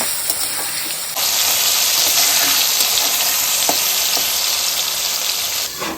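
Cut potatoes with turmeric and salt drop into hot oil and break into a loud, steady sizzle that fills the pan from about a second in until the end, with occasional spatter pops.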